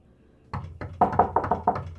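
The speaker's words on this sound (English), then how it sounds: "He could see the moneylender's goons knocking at his house" Knocking on a house door: two single raps, then a rapid run of loud, close knocks in a tight rhythm, with no voices.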